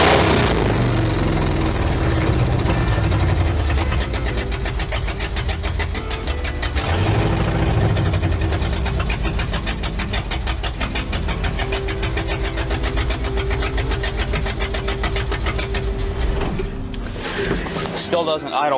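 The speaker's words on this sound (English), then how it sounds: "Still doesn't idle perfectly when the choke is off" A 1975 Ford F100 engine idling slightly unevenly with the choke off, a steady close rumble with rapid firing pulses running the whole time and small dips in the beat.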